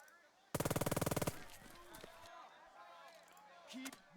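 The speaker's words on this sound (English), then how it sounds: "Can I shoot from here?" A loud, fast burst of automatic gunfire from the Burden of Command video game, about a dozen rapid shots in under a second, then quieter battlefield sounds with a voice talking.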